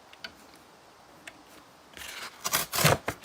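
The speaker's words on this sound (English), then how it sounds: "I'm going to cut one end off here." One end is trimmed off a card, a few faint ticks followed by a loud, close burst of crisp cutting snips near the end.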